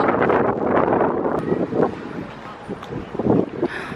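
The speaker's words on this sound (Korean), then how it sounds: "바람 진짜 많이 분다" Strong wind on a day trip to Gangneung buffets the microphone in loud, gusty rumbling surges that rise and fall, mixed with people talking.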